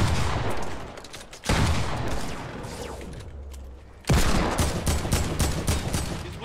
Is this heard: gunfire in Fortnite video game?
yes